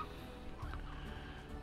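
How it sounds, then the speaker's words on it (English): Chickens clucking in the Slime Rancher video game, a soft continuous fowl chatter of several birds in a corral, steady and moderately quiet throughout. "Here you go, chickens."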